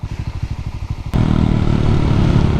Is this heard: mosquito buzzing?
no